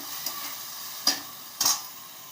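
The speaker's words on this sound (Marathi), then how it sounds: "मिक्स करून घ्यायचं दूध टाकल्यावर." Milk is stirred into a coconut ladoo mixture in a pan, a soft steady sizzle with a few sharp scraping clinks of the spoon against the metal, close and fairly quiet.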